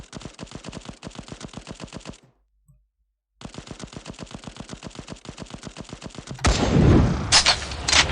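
Rapid automatic gunfire from the mobile shooter game Cover Fire, a steady rattling burst that stops, then resumes for several more seconds before giving way to a louder, noisier blast at the end.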